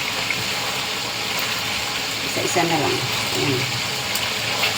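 Running tap water splashing steadily while dishes are washed by hand during a water shortage, a continuous broadband wash with a voice talking over it.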